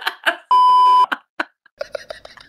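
A sharp, loud censor beep lasting about half a second cuts across casual conversation, with voices talking before and after it.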